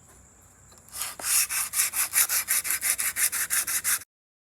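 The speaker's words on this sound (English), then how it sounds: "So we're going to start out with some 80 grit sandpaper and then work our way up to 400." Hand sanding a hatchet with 80 grit sandpaper gives a series of about fourteen even, rhythmic scraping strokes, close and clear against a quiet room before stopping abruptly.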